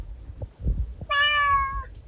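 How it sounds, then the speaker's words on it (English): A single clear black cat meow rings out after a few soft thumps and rustles, close and fairly loud, lasting under a second. "What's your name, little kitty? Meow."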